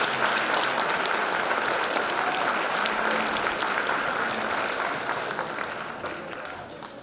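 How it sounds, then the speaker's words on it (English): Audience applause after an orchestra performance at a winter school orchestra concert: dense, steady clapping from a large hall crowd that holds level and then gradually fades toward the end. "So another round of applause for the Sunshine."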